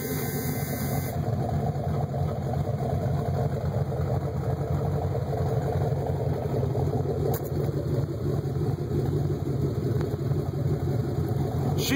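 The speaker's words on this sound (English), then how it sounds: "cherry bomb exhaust right now" A Chevy truck's 355 V8 with a TBI chip, mild cam and Cherry Bomb exhaust idles steadily up close, giving a continuous low, burbling rumble with no breaks.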